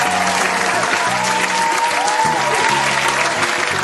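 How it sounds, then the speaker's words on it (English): Applause fills the whole stretch, a loud, continuous patter of many hands clapping with a steady background of musical tones. "give yourselves 10 loud claps for a job well done."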